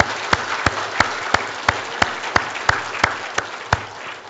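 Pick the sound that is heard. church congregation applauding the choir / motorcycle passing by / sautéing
church congregation applauding the choir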